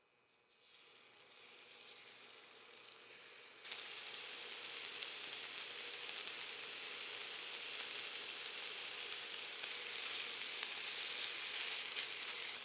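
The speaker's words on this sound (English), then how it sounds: "We're going to get them into a pan. Medium high, a little bit of oil. We're going to add our meat," Pork cubes hit a hot oiled pan over medium-high heat and break into a loud, steady sizzle that holds constant, with no voices.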